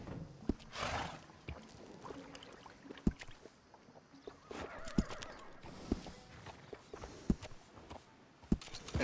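Horse in Red Dead Redemption 2 snorting and whinnying near a stable while hooves clip-clop in an irregular rhythm underneath, moderately close, with no talking.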